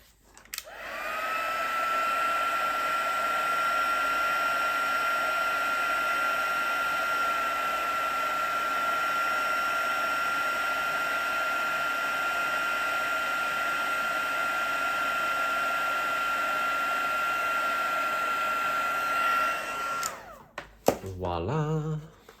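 A heat tool blows a steady, loud whirring hiss for about twenty seconds, setting embossing powder on vellum, then clicks off with a few small handling knocks at the end.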